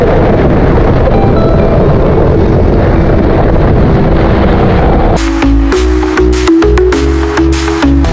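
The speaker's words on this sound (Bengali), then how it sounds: "কি পরিমাণ বাতাস আমি একটু দেখাই" Strong sea wind at Kuakata beach in Bangladesh buffets the microphone in a continuous roar, with a low engine-like drone joining partway through.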